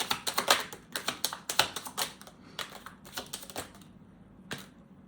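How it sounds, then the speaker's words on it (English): Tarot cards are shuffled and pulled by hand, giving rapid, crisp papery flutters and taps up close, in a dense run before tapering off to a few isolated snaps. "Let's pull some cards for your person."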